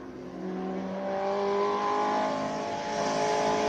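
A Mark 1 VW Fox, a little front-wheel-drive classic with an 8-valve engine, runs in a qualifying round of classic car racing, its engine drone steady and rising slightly at moderate distance, with no talk.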